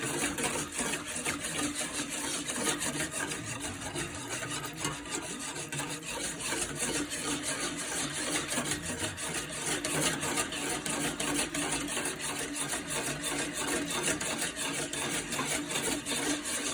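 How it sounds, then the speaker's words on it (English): A whisk working a thickening agent into pot roast gravy, with a continuous fast scraping rub against the pot that runs throughout, close and even. "And it'll just start coming out, and you just gotta whisk."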